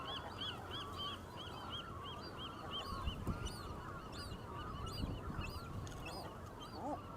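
A seagull and a cormorant call back and forth on a rocky shore, with repeated honking, goose-like cries over a steady wash of wind and surf, fairly near and clear.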